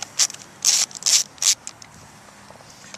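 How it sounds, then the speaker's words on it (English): Ratchet clicking in short bursts while backing out screws from the radio antenna cover of a Lexus SC430 power antenna, four close, bright clicking runs with pauses between, no talk. "Next we have to remove the cover. This is usually 5 screws."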